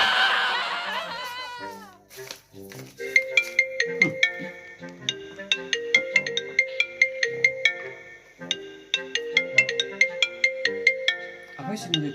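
A phone rings with a repeating electronic ringtone for an incoming call, a steady chiming pattern after a short burst of laughter at the start.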